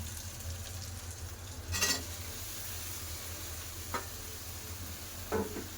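Prawns, onion and vegetables being fried together in a pan for a Bengali chorchori, giving a quiet, steady sizzle with a few brief stirring scrapes, heard close with no speech.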